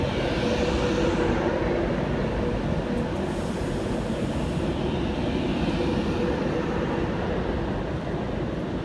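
A Class 390 train in VT livery departs Stoke-on-Trent station with a loud, steady rushing rumble that fills the scene throughout, with no voices.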